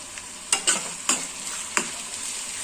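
Finely chopped onions frying in plenty of oil are stirred with a utensil, giving a steady hiss broken by a few sharp scraping strokes against the pan, close and clear with no talking.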